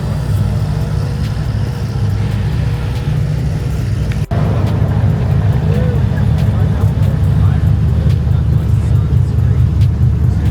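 A steady low engine drone with a constant rumble from an amphibious boat vehicle driving on land, close and loud throughout, with a brief sharp knock partway through.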